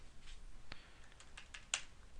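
Typing on a computer keyboard while entering an asset number into a software field: a few faint, scattered key clicks, close but quiet, with one slightly sharper tap near the end.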